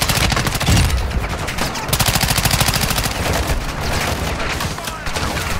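Loud video-game gunfire: rapid automatic bursts and single cracks rattle in close succession, with booming impacts mixed in throughout.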